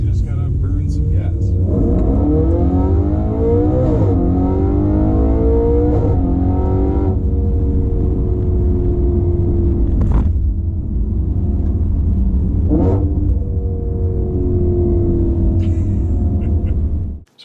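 An Audi RS5's 4.2-liter V8 revs hard in repeated rising bursts, a loud deep roar climbing and falling several times before cutting off abruptly at the end.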